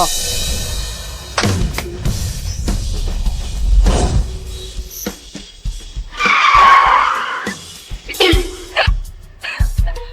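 A race car's tires skid and squeal loudly in a drama scene, with a sustained screech midway, engine noise and sharp bursts around it, and short sounds before and after.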